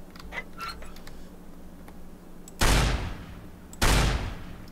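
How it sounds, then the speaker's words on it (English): Shotgun blasts in the Fallout Equestria Remains game, two loud, sharp reports about a second apart, each with a short decaying tail over a low background hum and faint clicks. "I don't really know what I'm doing with the shotgun, but I'm using it anyway"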